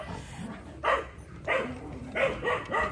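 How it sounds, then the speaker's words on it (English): Dogs playing on an open field in Costa Rica bark in four separate loud bursts, evenly spaced, with outdoor background between them. "Bye from all the dogs who are playing around on the field."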